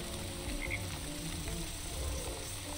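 Frogs croak continuously in the video game Wytchwood, a dense chorus of rattling, ratchet-like calls over a steady ambient bed, with no talk.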